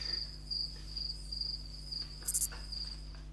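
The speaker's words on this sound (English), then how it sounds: "Cricket sounds." Crickets chirp in a steady pulsing trill, repeated short bursts at moderate loudness over a low hum, with no one talking.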